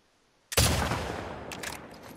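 A loud gunshot burst in The Last of Us Part II: a sharp, close blast followed by a rolling echoing tail and a couple of smaller follow-up cracks.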